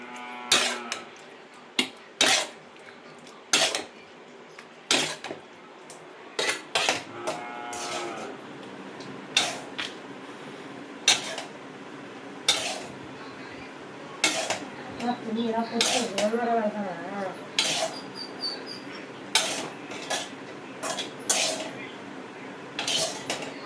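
Onion and tomato go into a cooking pot for a country chicken curry, with repeated sharp clinks and clatters of metal utensils against the pot, close by and irregular, with background murmur between.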